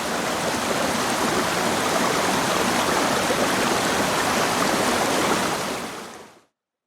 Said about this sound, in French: C'est la rivière.